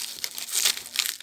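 Special plastic packaging from a brake master cylinder kit bought for a 2003 Kawasaki Ninja R crinkles and rustles close by in a steady, irregular stream of crisp crackles.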